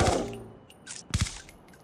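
Gunfire from a weapon in Call of Duty Mobile, a loud close burst at the start followed by a couple of sharper shots, then quieter game sounds.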